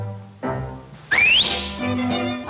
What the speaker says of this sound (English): Why the whistle, Sizzle?